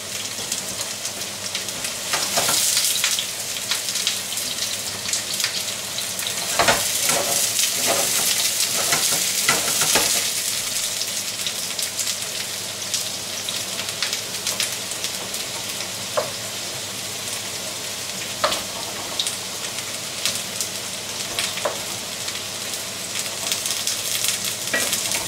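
Strips of turkey with mushrooms sizzle and fry steadily in a hot pan, a continuous crackling hiss with occasional louder spatters and stirring scrapes, close up and without talk.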